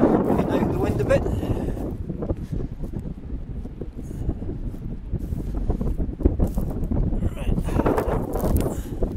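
Steady wind buffeting a microphone in flight during a long paraglider-style flight, a constant low roar throughout, with a brief spoken word at the start.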